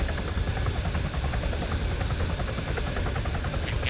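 Steady, close helicopter rotor and engine drone from the ArmA 3 video game, a continuous loud thrumming buzz that holds level as the aircraft hovers in to land.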